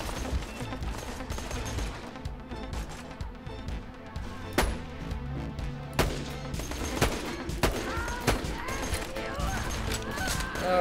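Rapid bursts of gunfire and sharp blasts from a Borderlands 2 battle, dense and irregular over layered game effects and music, with a few loud cracks standing out.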